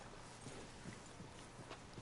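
Steady clip-clop of horse hooves in the video game Red Dead Redemption II at a walking pace, close and even, over a constant background hum.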